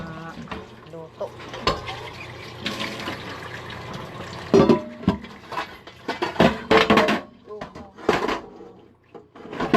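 Running water splashes intermittently as pots and a rice pot are washed at a sink, with clattering cookware and knocks between bursts, while someone talks over the work.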